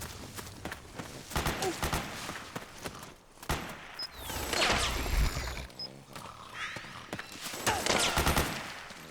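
Gunfire from the video game Metal Gear Solid 4, heard as scattered bursts and volleys of shots that surge louder midway and again near the end, mixed with other battle sounds.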